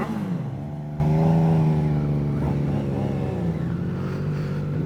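A 2024 Triumph Street Triple motorcycle with its baffles removed revs up abruptly, its three-cylinder engine snarling loud and close, holding a raspy high idle with small throttle blips and wavering pitch, no voices over it.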